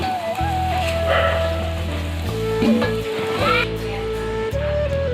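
Loud, steady sizzling of potatoes frying in hot oil in a kadai, with a sustained tonal drone running underneath the crackle.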